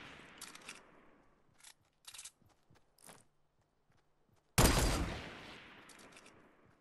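Gunfire in the Fortnite battle royale video game: a few scattered faint shots, then one loud close burst that decays into a lingering rumble, with quiet clicks and footsteps between.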